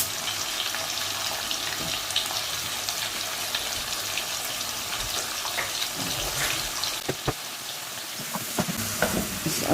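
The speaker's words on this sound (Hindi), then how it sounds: "अब इनको थोड़ी देर भूनूंगी।" Diced potatoes and eggplant frying in oil in a pan for aloo baingan sabzi, with a loud continuous close sizzle and occasional scraping and stirring sounds, and no talking.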